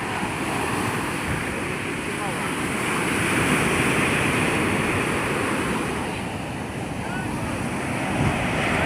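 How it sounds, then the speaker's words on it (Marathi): A big sea wave crashing at Puri beach, Odisha, a loud continuous roar of surf that swells and ebbs with wind noise on the microphone, with a voice faintly present. "हे बघा ही कशी खतरनाक लाट आली"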